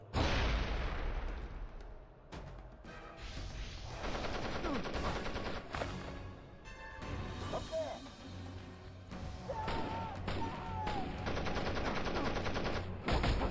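Gunfire from the video game James Cameron's Avatar: The Game, dense bursts of rapid shots and blasts running almost continuously under game noise, with voices talking at times.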